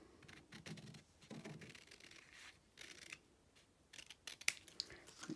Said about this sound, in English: just snip that off there